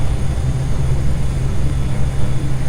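Cessna Grand Caravan turboprop at full throttle on its takeoff roll from Cap Skirring, a loud, steady low engine drone with a constant tonal hum.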